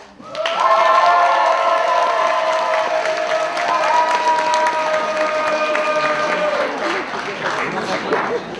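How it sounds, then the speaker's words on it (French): A loud audience at the DeTo 2017 cosplay contest cheers for a contestant dressed as Lincoln, sustained shouting and whooping mixed with clapping, holding strong for several seconds. "Je vous demande d'applaudir, mais le plus fort possible, le personnage de Lincoln."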